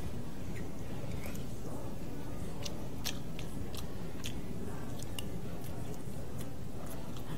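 Crispy grilled egg is chewed and crunched close up at an outdoor meal, giving several sharp crackling bites over a steady background hum.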